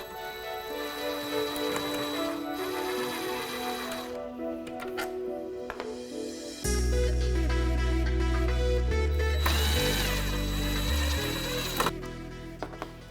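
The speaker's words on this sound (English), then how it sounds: "I'm going to use a small impact here to make it a little bit quicker." A small impact driver backs out the screws on a Jeep JK Wrangler taillight, buzzing and rattling loudly in sustained bursts close to the work.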